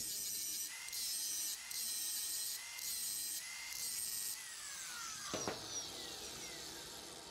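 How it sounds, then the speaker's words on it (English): A stone disc on an angle grinder works down the bulk of a weld on welded tubing, a steady high whine broken by short pauses, then fading off with a brief clunk near the end. "I'm gonna grind this and keep it as flat as I can while I'm doing this corner. Hit it with the stone disc first."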